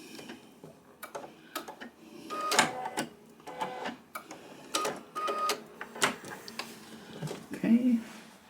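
A sewing machine stitches quilt seams for a Yellowstone-style quilt in short, irregular bursts of rapid mechanical ticking and clatter, near and moderately loud, with a person speaking between the runs.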